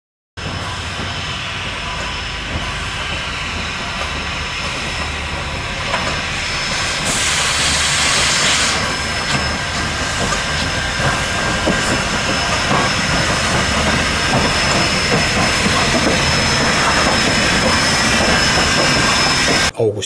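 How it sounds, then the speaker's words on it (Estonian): Steam locomotive at Võru railway station in southern Estonia during a feature film shoot, giving off a loud, continuous broadband hiss of steam for twenty seconds that swells partway through and stays steady to the end. "Sellise huviga andis Võru raudtejaamas endast teada auruvedur"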